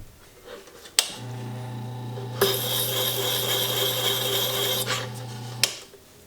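A hand graver is sharpened on a GRS Power Hone grit plate, a steady motor hum joined by a sustained close rasping grind that lasts a few seconds before it stops, with no talk.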